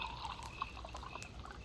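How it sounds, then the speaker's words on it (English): Coffee poured into a cup in an old radio Western drama, a soft steady liquid pour with small gurgles, fairly faint and heard alone. "More coffee, Lex? Yeah, thanks"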